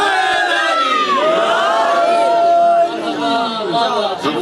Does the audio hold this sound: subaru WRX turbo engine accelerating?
no